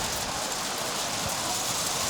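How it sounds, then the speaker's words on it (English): Hail pelting down at an outdoor football ground during a senior grand final: a dense, steady hiss of falling ice with faint scattered impacts, loud and continuous, with no clear speech. "hail is coming in."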